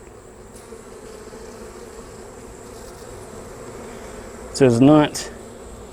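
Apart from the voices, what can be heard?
honeybees buzzing during a hive inspection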